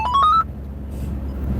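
A phone ringtone playing through the car stereo of a V8 Hilux on the road, a short rising run of bright electronic beeps that cuts off quickly, leaving road and engine rumble underneath.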